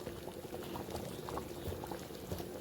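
Fish head lentil dal made with black gram simmering in a pot, a soft steady bubbling with gentle pops, faint and close, without any talking.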